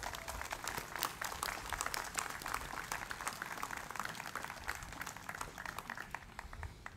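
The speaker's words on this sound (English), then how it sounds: "Let's give her one more round of applause." A Memorial Day crowd outdoors gives a round of applause for the grand marshal, sustained, even clapping from many hands, heard from a moderate distance.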